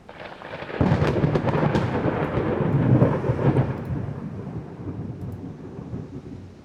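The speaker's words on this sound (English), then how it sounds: "Suddenly rainy and stormy." A sudden thunderstorm rolls in during a naval battle in the game Ultimate Admiral Dreadnoughts: a deep thunder rumble breaks out and swells, then fades under steady rain hiss, with no talking.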